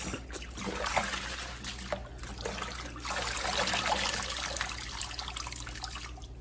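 Water trickles and splashes steadily, like a tap running into a sink while leafy greens are rinsed, quiet and close, with occasional small clinks.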